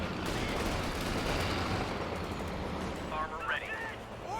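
Dense battlefield gunfire from the Company of Heroes 2 strategy game, a continuous loud rattle of rifles and machine guns with rumbling impacts under a commentator's voice throughout.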